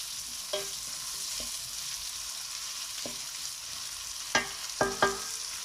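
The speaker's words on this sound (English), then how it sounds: "So the peppers has been cooking for about 3 minutes now." Peppers and garlic fry in a pan for chilli paneer, a low constant sizzle under a few scattered clinks and scrapes of a spatula, with a small cluster of louder taps toward the end.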